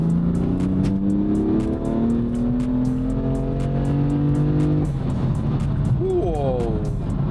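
BMW M4 accelerating with its exhaust valve open, the engine note climbing steadily through the revs, loud and close, then dropping and rising again after a gear change, with a voice speaking over it.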